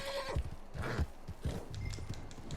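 Horse in the open-world Western game Red Dead Redemption 2, heard as several close whinnies and snorts over soft clip-clopping hooves, with a low game soundscape underneath.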